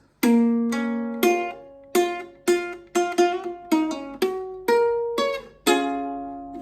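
A ukulele is picked fingerstyle, chords arpeggiated note by note in a steady rhythm, playing a part from Polo G's "RAPSTAR", each pluck clear and close with a short decay.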